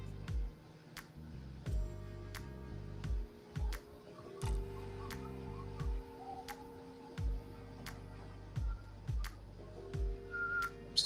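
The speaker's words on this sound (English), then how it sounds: "I'm whistling again." Someone whistles a series of short sustained tones in repeated phrases, clear and fairly close, alone over a quiet background with faint ticking clicks now and then.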